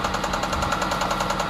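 A Honda engine running loud and close at a steady, unchanging pitch, with a rapid rhythmic knocking and vibration throughout and no rise in speed.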